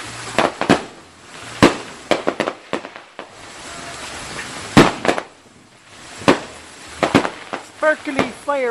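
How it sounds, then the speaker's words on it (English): Fireworks on the Fourth of July crack and pop in repeated sharp bursts at an uneven rhythm, some loud and close, with faint crackling between them and a few whistling sounds near the end. "Sparkly fireworks trees."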